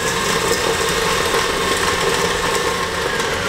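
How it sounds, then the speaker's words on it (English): An electric mixer runs on high, beating butter and sugar for chocolate chip cookie dough, with a steady, loud, continuous whir and no talking. "we're gonna beat this on high until the butter and the sugar becomes one nice creamy mixture"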